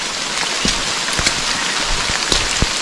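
Steady rain hisses down on a fog-covered hill near Harishchandragad in the Sahyadri range, with scattered louder drops tapping close by over the continuous wash; no voices.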